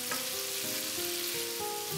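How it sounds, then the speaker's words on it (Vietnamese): Pork tenderloin fillets fry in a pan with a steady, dense sizzle, close and continuous, with a few faint tonal clinks or scrapes over the crackle and no talk. "cho thịt phi lê vào trong chảo rồi mình chiên cho nó vàng"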